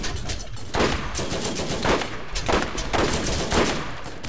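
Turret gunfire in the Borderlands video game, sharp bursts of shots repeating roughly every half second to second, loud and steady with no talking.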